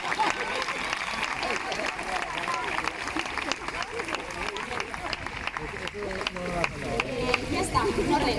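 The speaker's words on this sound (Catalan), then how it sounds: "Un fort aplaudiment a l'Escampai." Loud applause at a dance school's International Dance Day celebration, dense clapping from an audience sustained throughout with crowd noise and voices mixed in.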